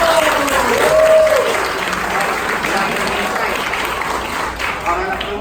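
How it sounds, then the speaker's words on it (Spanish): Audience in a public-speaking workshop applauding a participant who has just read aloud, a loud, sustained wash of clapping with a voice or two calling out near the start. "ahora, un aplauso para él."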